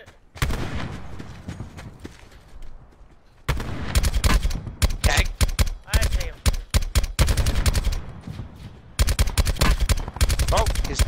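Call of Duty Blackout gunfire in bursts: a lighter volley at first, then loud, rapid automatic fire cracking repeatedly in close, dense runs, with brief lulls between exchanges.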